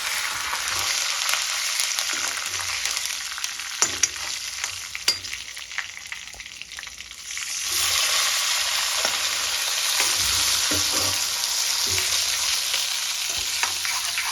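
Tomatoes fry in a pan with curry leaves while being stirred, a steady close sizzle broken by scraping strokes; the hiss swells louder and brighter partway through and stays that way to the end, with no one talking.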